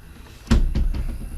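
A wooden clean-out door on a newly built chicken coop with hinges and trim, swinging shut with one sharp knock followed by softer rattling bumps.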